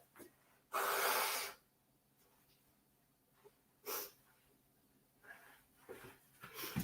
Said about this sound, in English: Off camera to blow my nose.